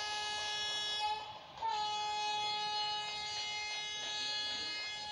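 A WAP-7 electric locomotive in an Indian train simulator game sounds a steady, loud horn with a harmonic tone, briefly dipping before resuming, over a low rolling rumble of the train.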